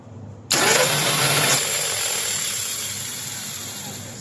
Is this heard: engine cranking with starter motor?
yes